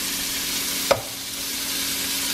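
Sausage frying in a pan on a home stove, a steady broadband sizzle running throughout with one brief clink partway through, no talking.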